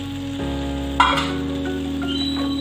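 Spicy mutton gravy sizzles and bubbles in a pan as more water is poured in, a steady close frying hiss with a brief splashing burst partway through and no talking.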